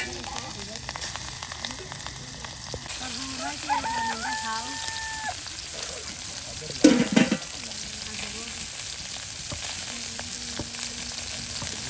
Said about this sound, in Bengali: দেখুন কত মাছ একসাথে ভেজে নেওয়া হচ্ছে